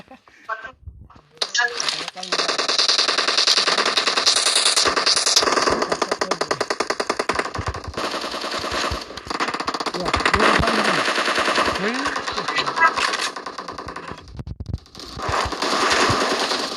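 Near-continuous automatic gunfire from the mobile game PUBG Mobile rattles loudly for most of the stretch, a dense rapid stream of shots with brief pauses and game effects.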